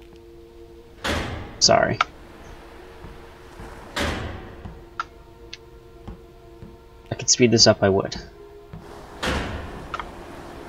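Doors in a video game open and close with a few separate thuds and clicks at steady gaps, plus a quick rattling burst near the end, under intermittent talk.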